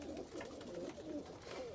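Faint, low cooing from Oman pigeons rolls in soft overlapping murmurs beneath a hissy background, brief and unbroken, with no one talking.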